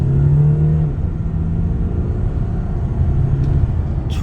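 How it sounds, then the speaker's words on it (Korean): An Audi A6 accelerating hard in sport mode during a test drive after repair work, a loud steady engine roar heard from inside the car, rising slightly and droning throughout. "놓고 자, 풀가속."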